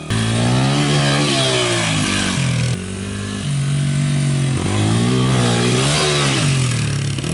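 A motorcycle is revved hard in second gear at wide-open throttle at a DIY skatepark, a loud close engine roar that climbs in pitch, dips briefly near the middle, then surges again.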